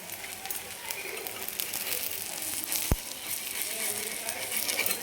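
Thalipeeth made from leftover besan fries in oil on a pan, giving a steady, close crackling sizzle throughout with one sharp click partway through.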